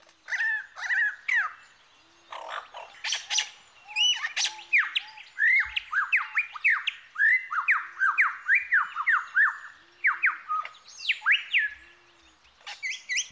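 A single Australian bird mimics many different calls in a rapid string of varied squawks, chirps and whistles, one after another, loud and close, with brief pauses.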